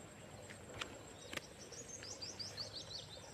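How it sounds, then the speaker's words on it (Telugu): Birds near water in an area with nests around call in short chirps and twittering trills, mostly brief high notes scattered over the clip, fairly close and soft against a quiet outdoor background. "పక్షుల శబ్దాలు కూడా గమనించండి."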